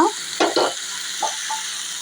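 Eggplant pieces being stirred and mixed in a pan for a sweet corn curry, with a few short scraping strokes over a steady soft sizzle, close by.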